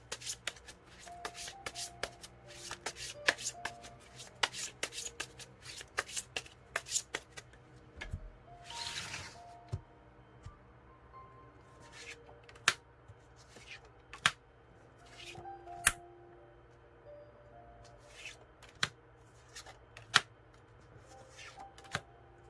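Tarot cards being shuffled, a run of crisp riffling clicks and flutters with sharp taps, close and fairly quiet, with no speech over it.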